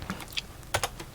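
Quick typing on a computer keyboard, a handful of crisp close key clicks in about a second, with no voices.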